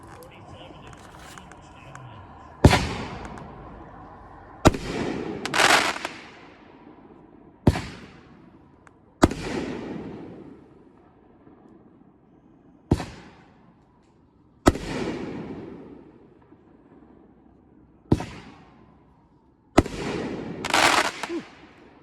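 Extreme Challenge nine-shot firework cake bursting outdoors at a demo night, sharp loud reports at irregular intervals, each followed by a crackling, fading tail, with some distant chatter from onlookers in between.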